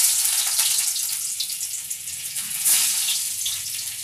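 Chopped onion and garlic, with a pinch of black cumin, fry in hot oil. The sizzle is close, steady and bright, with small crackling bursts throughout.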